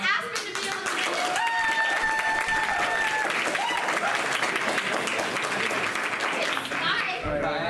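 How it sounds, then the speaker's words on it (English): Loud, sustained audience clapping at a live comedy show, voting a contestant out, with voices and whoops over the applause before it tapers off. "Clap if you want Aspin to be eliminated."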